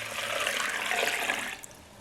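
Cold water pours steadily into a blender with oats, a splashing, rushing wash for about a second and a half, then cuts off abruptly, close by and fairly loud.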